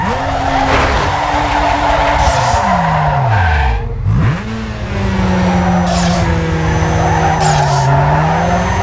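A car drifts in Need for Speed Underground 2, loud tire squeal sliding up and down in pitch over a roaring, revving engine, the squeal dipping sharply midway and then carrying on, with no one talking.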